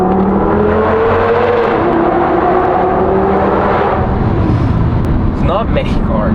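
A Lamborghini sedan's 5.2-litre V10 revs hard, a loud, continuous engine roar whose pitch climbs and shifts across the run, with a voice talking over it.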